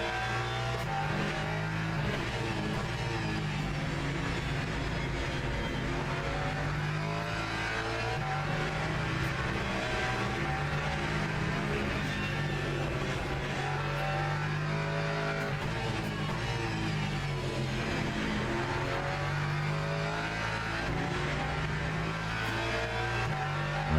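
A hypercar engine in the sim racing game Le Mans Ultimate drones loudly and steadily throughout, with rising and falling revs as gears shift, set among other race cars on track, and no talking.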